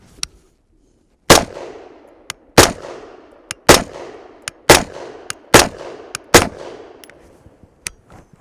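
A .22 caliber rifle fitted with a Lynx suppressor fires a series of sharp, supersonic cracks, about eight shots at irregular one-second intervals with short decaying echoes, preceded by a brief quiet pause.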